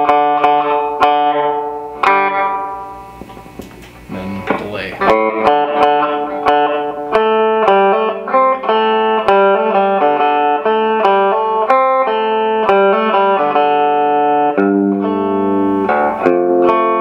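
Guitar notes and chords played through an amplifier's spring reverb setting, a continuous run of plucked tones with a washy, lingering tail blurring each note into the next, loud and close with no talking.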